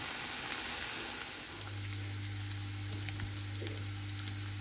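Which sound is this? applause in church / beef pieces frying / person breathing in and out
beef pieces frying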